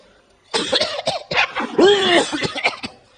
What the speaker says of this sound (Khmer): ក្អកចាស់ក្អកជំងឺនិងក្អកស្ទាវ